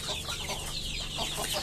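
Roosters in a poultry shed cluck in short repeated bursts over a steady hum and constant hiss, which may be fan or farm machinery. The birds sound moderately close.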